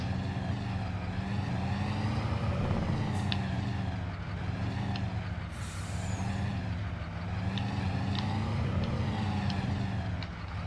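An International truck's diesel engine runs and revs in slow swells, loud and close, with short sharp hissing bursts like air brake releases cutting in over the rumble.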